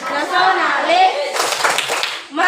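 A group of children chanting in unison in a classroom, with crisp bursts of clapping breaking out halfway through and continuing under their voices, close and loud.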